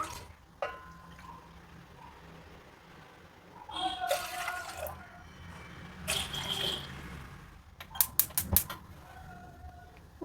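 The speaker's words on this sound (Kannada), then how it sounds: "ಎರಡು ಕಪ್ ತೊಗೊಂಡಿರೋದ್ರಿಂದ ನಾನಿಲ್ಲಿ ಮೂರು ಕಪ್ಪು ನೀರು ಹಾಕ್ಕೊಳ್ತೀನಿ" Water is poured into a pot in two splashy bursts while rice kadubu, a Malenadu rice dumpling, is being prepared. A cluster of sharp clinks and knocks follows, all fairly faint and without talking.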